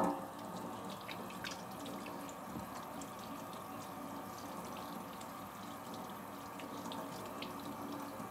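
Water runs steadily from a sink tap into a basin indoors, a soft, continuous splashing with faint clinks during handwashing.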